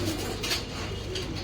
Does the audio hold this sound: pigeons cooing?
yes